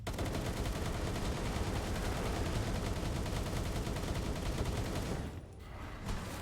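Grapple gun emptying a full magazine at Lifmunk in a video game, a dense unbroken stream of rapid shots for several seconds, a brief gap near the end before firing resumes, steady and loud with no voices.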